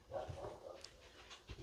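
A dog gives a short burst of faint barks and whimpering yips with some panting, quiet and brief, with no talk over it.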